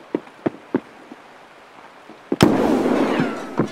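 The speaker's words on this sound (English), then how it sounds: "You threw a grenade in here." Grenade blast in the video game Escape From Tarkov, heard after several sharp distant gunshot-like pops: a sudden loud explosion followed by a long rumbling, crackling decay, no talk.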